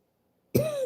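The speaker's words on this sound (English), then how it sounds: "don't know why I'm coughing." A single cough bursts out after half a second of silence, loud and close, holding briefly with a rough, throaty tone.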